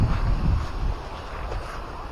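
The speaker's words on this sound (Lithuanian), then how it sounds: "Vėjas didelis." Strong wind buffeting an outdoor setting near a garage, a steady low rumble of gusts and microphone wind noise that stays loud throughout, with no voices.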